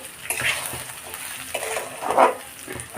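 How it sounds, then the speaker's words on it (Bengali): Marinated rice coated in salt, turmeric, ghee and ginger is stirred and fried in hot oil in a pan, a steady sizzle broken by scraping strokes of a spatula against the metal, close and without talk. "একটু নাড়বো, ভাজা ভাজা করবো এটা"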